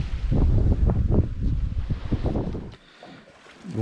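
Sailboat motoring at about five knots at sea under engine power on a crossing from Bermuda to the Azores, a loud low rumble with wind buffeting the microphone that briefly drops away before returning.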